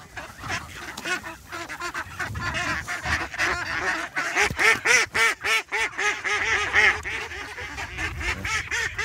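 Ducks used as hunting decoy callers quack and honk loudly and nearly continuously in a dense, overlapping flock chorus, close by with rapid repeated calls throughout.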